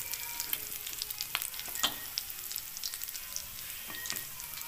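An egg fries in a hot pan with a constant bright sizzle and crackle, scattered with small spits and pops, close and moderately loud with no voices.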